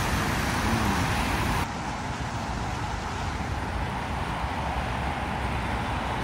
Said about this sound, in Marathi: गाड्या सुरेख आहे, ट्रॅफिक छान आहे.